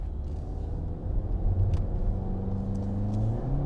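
A 2010 Audi A5 with the 3.2 liter engine rumbles as it accelerates, a low, steady mid-level drone that swells slightly partway through, heard alone without talk.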